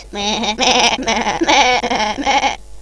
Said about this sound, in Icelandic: Kind.